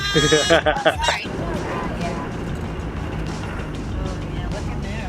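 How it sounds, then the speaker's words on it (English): A sheep bleats several times in quick succession at the start, heard from a moving vehicle on Madeira, then continuous road and engine rumble carries on underneath. "That's a sheep."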